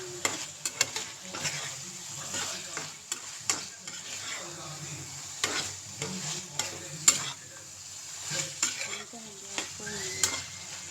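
Ginger garlic paste being stirred into mutton frying in a pan, a steady sizzle under repeated scraping strokes of a spoon against the pan, close and moderately loud, with no talking.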